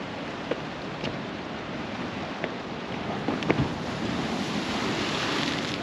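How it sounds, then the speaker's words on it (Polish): Steady surf washes and rumbles against rocks at Cape Point, Cape Town, outdoors, with wind buffeting the microphone and a few faint knocks. "Woda ładnie uderza o skały."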